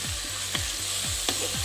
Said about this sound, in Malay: anda boleh menambahkan 3 sudu besar cili bor ditumis bersama ramuan tumisan tadi hingga ia menjadi pecah minyak